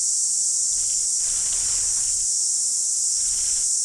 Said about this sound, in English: The air is thick with the steady drone of cicadas